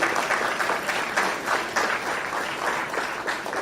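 An audience gives Kavem Hodge another round of applause at a schools' sports awards ceremony, with many hands clapping in a steady, pulsing wash that stays fairly loud from start to finish.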